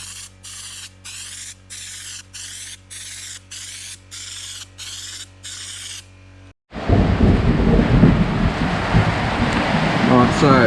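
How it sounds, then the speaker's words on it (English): After a stretch of rhythmic pulsing, heavy rain suddenly bursts in, a loud, dense roar of water that continues steadily to the end. "the rain's coming down hard"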